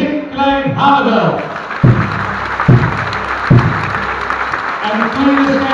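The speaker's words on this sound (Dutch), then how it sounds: "een groot applaus voor de mensen die deze titanengevecht in de goede banen gaan leiden." Applause and crowd noise in a volleyball hall as the referees are introduced before a Numidia versus Active Living Orion match, running under an announcer's voice with a few heavy thuds punctuating the sound.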